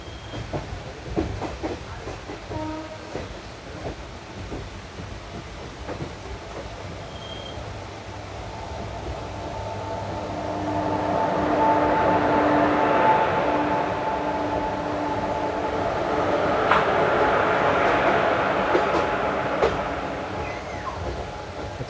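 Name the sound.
Kalyan banker locomotives at Karjat for Bhor Ghat climb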